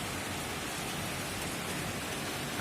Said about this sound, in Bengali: বাইরে হচ্ছে বৃষ্টি, অঝোর ধারায় পড়ছে বৃষ্টি, দেখতে পাচ্ছেন।